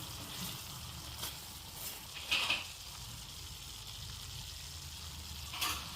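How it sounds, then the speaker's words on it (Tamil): A pan of curry leaf curry bubbles and sizzles quietly and steadily, with a couple of brief louder pops, and no voices. "நல்லா கொதிக்க ஆரம்பிச்சிருச்சு."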